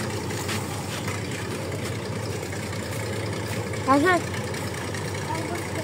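A trawler engine runs on a river where boats dredge sand, giving a steady low drone throughout, with a brief voice-like call rising above it near the end.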